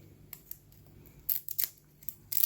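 Scissors snip through vintage book page paper in a few quick, crisp cuts, close and quiet, with brief rustles of paper between the snips.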